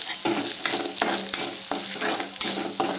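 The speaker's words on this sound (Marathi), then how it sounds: "आपलं अद्रक वगैरे छान फ्राय झालेलं आहे आदरक आणि आता मसाला ॲड केलेला आहे" Ginger and masala fry in hot oil for sambar, giving a steady close sizzle with repeated scraping stirs of a spoon through the pan.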